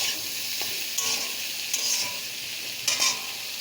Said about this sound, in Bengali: দিয়ে এটা একটু ভালো করে ভেজে নেব